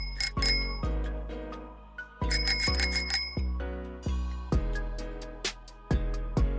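Bicycle bell rung in quick bursts, a bright metallic ding repeated several times with short pauses, close and clear with no voices.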